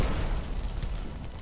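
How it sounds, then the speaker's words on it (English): A powerful explosion from smokeless powder, where pressure at the flame front builds into a supersonic shockwave, heard as a dense, sustained low rumble that stays loud throughout. "causing a powerful explosion."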